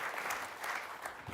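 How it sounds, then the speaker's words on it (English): Audience at a high-level EU agency conference in a hall clapping together, a steady wash of applause that holds even throughout without voices. "With your applause, ladies and gentlemen."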